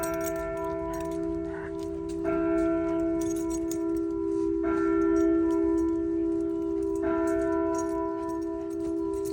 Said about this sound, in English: It's a bell that just went off here in the cemetery.